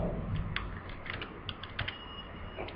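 Someone types a short title on a computer keyboard: soft, close key clicks in an uneven run over a steady background hiss.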